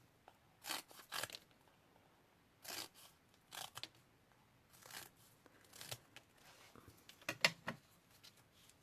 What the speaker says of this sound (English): I don't mind cutting, but use big scissors.